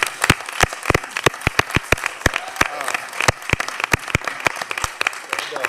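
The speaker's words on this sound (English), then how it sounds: "So I want to give them another round of applause." A crowd applauds at a county commissioners meeting with sharp, scattered claps, fairly close and steady for several seconds, no talking over it.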